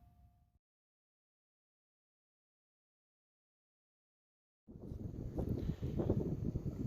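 Wind buffets a microphone in an open field in northeast Pennsylvania, coming in loud gusty rumbling bursts after a long stretch of silence, with a short muffled noise at the very start.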